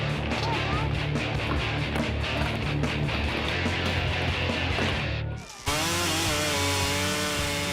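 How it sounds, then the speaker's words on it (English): A chainsaw roars steadily for several seconds, carving into a wooden log at a lakeside camp, then briefly cuts out before the engine revs back up. "Camp chainsaw sculptor Lance Downing made us a built-to-shred skate"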